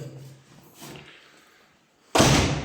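A steel front door in a Gönen rental flat shuts with one loud, close slam near the end, after a stretch of quiet room tone and faint shuffling.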